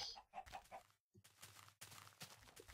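Chickens cluck in the Minecraft video game, a run of quick, faint clucks with a brief gap and then continued game noise.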